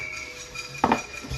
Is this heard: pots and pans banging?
yes